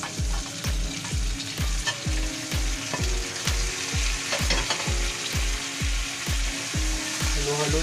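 Pork humba sizzles in a frying pan while a utensil stirs it in a fast, regular rhythm, each stroke landing as a soft thump over a constant close, loud frying crackle.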